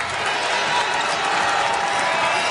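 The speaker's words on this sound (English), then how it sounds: "Do you hear this crowd, Marissa?" A basketball arena crowd at a Big Ten women's game between Minnesota and Ohio State roars in a steady, dense wash of cheering and applause, loud and unbroken throughout.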